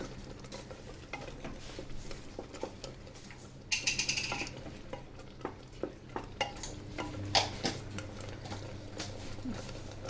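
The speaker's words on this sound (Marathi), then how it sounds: "आता व्यवस्थित हलवून घ्यायचा आहे हा" A spoon stirs bhagar (barnyard millet) mixed with coarse roasted peanut powder in a pan, with steady scraping and patter and a few sharper clinks against the metal, close and moderately quiet.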